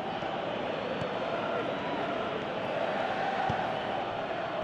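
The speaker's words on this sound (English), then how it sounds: "you can feel and hear how the crowd are reacting to all of this" Stadium crowd noise in the Pro Evolution Soccer 2018 football video game, a steady dense roar of spectators swelling slightly, with a commentator's voice running over it.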